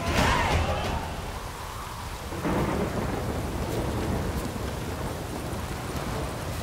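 Rain pours steadily in The Witcher 3 while thunder rumbles loudly near the start, then a second roll breaks in around the middle and the downpour continues alone with no voices.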